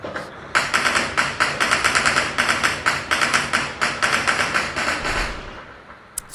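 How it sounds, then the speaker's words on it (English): Rapid bursts of gunfire rattle off in quick repeated volleys, sharp and continuous, with a slightly distant, recorded quality. "It's pretty clearly gunfire."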